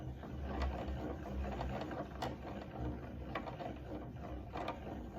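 A LAMXD yarn ball winder cranked by hand, a quiet steady whirring of gears and a faint ticking ratchet running throughout, close but soft.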